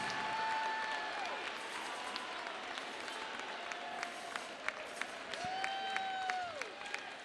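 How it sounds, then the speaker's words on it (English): Applause from students and staff fills a school gymnasium during a winter high school pep assembly, a steady wash of many hands clapping with scattered sharper claps and a faint whistle rising over it, fading slightly toward the end. "Let's give them a round of applause."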